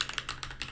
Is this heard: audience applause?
no